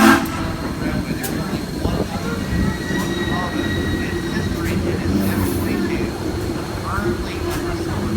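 Steam locomotive 630 running at a TVRM railway event, a dense rumble of rolling wheels and rail clatter with scattered clanks and hisses, a faint whistle tone, and people talking in the background.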